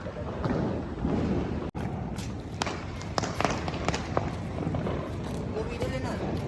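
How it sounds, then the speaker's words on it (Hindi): Firecrackers exploding on Diwali night outdoors, a dense stretch of scattered cracks and thumps near and far, with one sharp close bang, amid crowd noise and talk. "ये देखिए अभी भी तो पटाखे की धूम"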